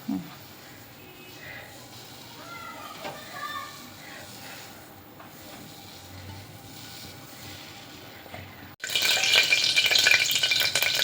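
Quiet kitchen murmur gives way to a sudden loud, bright crackling hiss as cumin and mustard seeds hit hot oil and sizzle vigorously.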